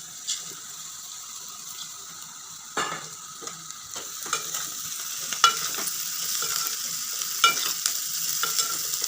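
Fried bitter gourd is stirred in a pan for a tamarind stew, with a constant hissing sizzle and scattered scraping, clicking spoon strokes, and no voices.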